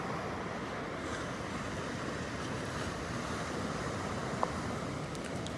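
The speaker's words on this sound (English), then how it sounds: "Little north wind right now." Light north wind at a beach on Pawleys Island, carrying steady surf as an even, continuous wash of noise with a faint rumble, unbroken from start to finish.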